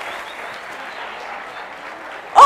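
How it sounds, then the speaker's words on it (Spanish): Steady applause from an audience greets Nico arriving at a beef promotion event in Córdoba, holding an even, moderate level before a sudden louder burst right at the end. "¡Un aplauso a Nico!"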